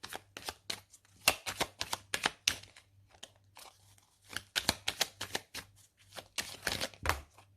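Tarot cards being shuffled and drawn: rapid, crisp riffling bursts of card flicks, close and fairly loud, repeating in clusters with brief pauses between, over a faint steady hum and no speech.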